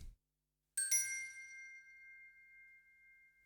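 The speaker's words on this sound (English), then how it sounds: "Just that Glock sound." Glockenspiel from the Audio Imperia Nucleus plugin striking a single bright, clear metallic note that rings out and decays slowly in a quiet space.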